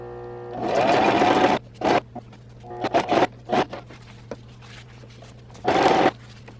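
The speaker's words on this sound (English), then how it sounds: "go ahead and sew around close to the edge again" A sewing machine stitches around the edge of a cloth diaper, running in a long burst, then several short stops and starts, and one more steady run near the end, close and clear.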